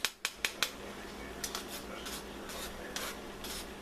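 A spoon scraping and clinking against a pot while skimming fat from BBQ pork loin sauce, four sharp metallic taps at the start, then softer intermittent scrapes and clinks.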